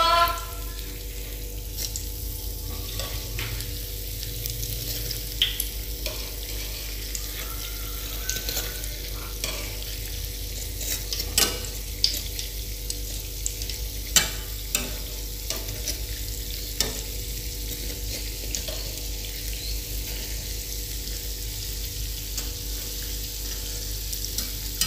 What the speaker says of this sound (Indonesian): Ini kita goreng menggunakan api sedang.